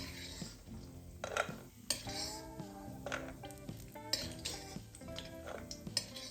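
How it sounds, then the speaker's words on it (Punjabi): Lightly roasted cashews and almonds are scooped from a ghee pan onto a plate, with repeated metallic scrapes and clinks of a utensil against the pan over a faint sizzle. "ਹੁਣ ਇਸ ਨੂੰ ਆਪਾਂ ਪਲੇਟ ਵਿੱਚ ਕੱਢ ਲਵਾਂਗੇ"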